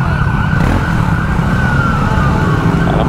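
A police siren passes on the road, its steady wailing tone loud and continuous over heavy traffic and engine rumble, heard from beside a Triumph Speed 400 motorcycle.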